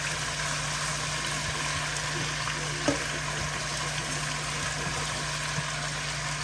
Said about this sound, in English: I want them to be sauteed along with this meat